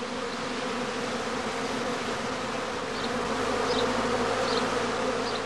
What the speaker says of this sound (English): the humming of the emerging bees is a good indicator of the progress of swarming